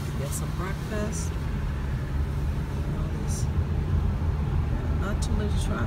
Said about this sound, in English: Not too much traffic on the road this morning, but there is still some.